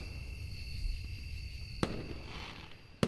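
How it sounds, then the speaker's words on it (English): Fireworks rockets bursting in the visual novel game Angels With Scaly Wings, two sharp cracks over a soft background hum with no voices. "More rockets followed, the thunderous noise echoing throughout the land."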